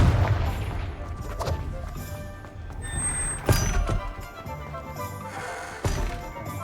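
Confringo explosive spell cast in Hogwarts Legacy, giving several loud thuds and crashing impacts over a busy game soundscape, with a sharp burst near the middle and another strike toward the end.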